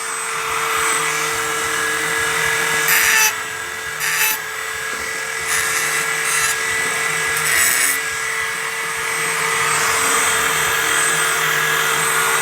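A power tool sanding fabricated aluminum floorboards for a Redcat Gen7 RC crawler, a steady, loud, high grinding whine running the whole time, with a few brief sharper bursts where the tool bites harder.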